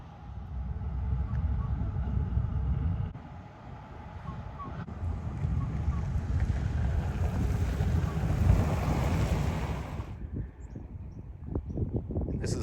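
A car ferry crosses the river at Dawson City, giving a steady, close rumble of engine and water with wind noise throughout; the sound drops away near the end.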